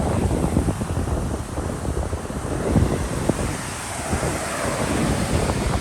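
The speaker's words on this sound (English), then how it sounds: "let you guys enjoy the sound of the waves" Ocean surf washes onto a beach in a continuous, loud rush of breaking waves, with heavy wind buffeting the microphone throughout and no voices.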